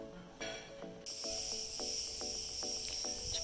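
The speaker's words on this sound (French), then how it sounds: "Si vous les entendez, les cigales." Cicadas buzz in a loud, steady high-pitched drone over a Cretan breakfast setting in Heraklion, joined partway through by a rhythmic series of clinks or taps in the foreground.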